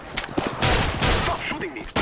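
Gunfire in the shooter video game CS:GO rattles out in dense bursts, loud and close, with a brief voice heard over the shots near the middle.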